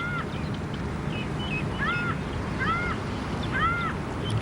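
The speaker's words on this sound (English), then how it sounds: "now the birds wheeling overhead, making a lot of noise" Birds wheel overhead on a golf course, calling in repeated rising and falling cries, each a moment long, from a moderate distance over a steady outdoor background rumble.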